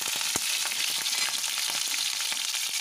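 Onion and green chilli sautéing in hot oil for tomato rice, a loud, close, continuous crackling fry with quick scraping and tapping from stirring; no talking.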